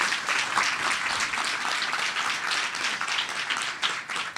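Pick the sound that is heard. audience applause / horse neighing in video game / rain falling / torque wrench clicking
audience applause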